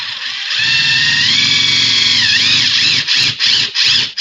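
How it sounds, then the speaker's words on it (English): A Ridgid Gen 5 subcompact power tool drives a lag bolt, a loud steady whirring motor with a rising-and-falling pitch that stutters into several short bursts near the end. "So we'll go ahead and do another lag bolt here."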